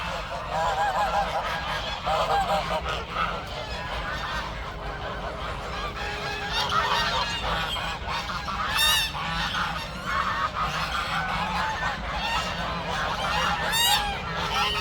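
A flock of geese honking continuously in a village coop, many overlapping calls near and far, loud and busy throughout with no talking.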